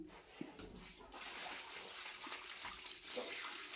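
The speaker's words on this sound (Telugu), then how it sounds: "మళ్ళీ బండ్ల మీద నీళ్ళు కొట్టేసి శుభ్రంగా" Water splashing and washing over stone floor slabs during floor cleaning, a steady broadband wash of running water at moderate level with a few small knocks, no talking.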